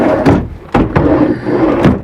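Wooden kitchen drawers in a 2005 Alpenlite Medinah 32RL RV sliding and knocking shut, several close thuds in quick succession.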